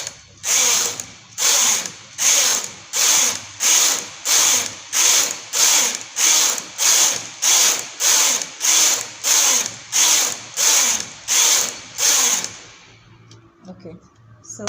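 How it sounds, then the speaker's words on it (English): A Brother KH 836 knitting machine carriage is pushed back and forth in about seventeen even, rhythmic ratcheting passes, each a loud mechanical rasp, before the noise stops. "I'm using a brother knitting machine. It is the small, it's a KH 836"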